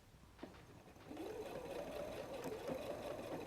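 A sewing machine runs steadily along the edge of a messenger bag strap under a quarter-inch foot, starting after a brief quiet moment and then whirring in a continuous rapid stitching buzz, close and fairly quiet.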